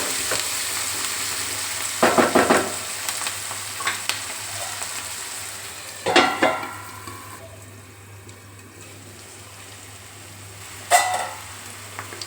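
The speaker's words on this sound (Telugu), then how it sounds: "కరివేపాకు వేసుకొని బాగా మిక్స్ చేసుకుని కరివేపాకును ఇలానే వేసుకోండి లేదంటే ఆయిల్ మీద పడే అవకాశం ఉంటుంది" Curry leaves sizzle in hot oil in a pan with a constant frying hiss. Scraping stirs break in three times, at the start, the middle and the end.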